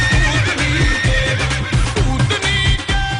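A mare neighs repeatedly in loud, rhythmic whinnying bursts with harmonic tones, close and filling the whole stretch, with no voices over it.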